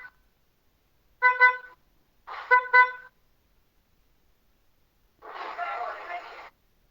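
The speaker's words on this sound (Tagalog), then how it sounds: "Parang busina ng truck yung..." A vehicle horn with a deep, truck-like tone sounds at a New Year celebration in Bicol: a short toot, then a double blast, then after a pause one longer, rougher honk, standing out against near silence.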